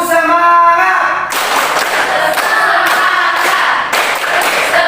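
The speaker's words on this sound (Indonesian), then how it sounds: "Kita akan melakukan tepuk semangat." A classroom group performs a rhythmic spirit clap led from the front, with dense, steady hand clapping in a regular pattern after a brief voiced lead-in, close and loud.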